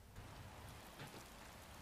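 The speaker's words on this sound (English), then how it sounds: "It would rain, wouldn't it?" Rain falling in a steady, soft hiss, faint and even throughout, with no voices.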